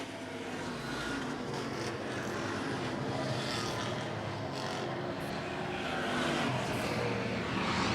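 Street stock race cars running on an oval track through turns 3 and 4, producing a continuous broad engine roar heard from a distance, steady and dense with a slight swell toward the end.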